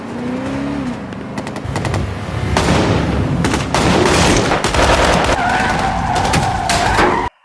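Bursts of gunfire crackle through a loud action scene, with sharp repeated shots over roaring engines and skidding tires, dense and continuous.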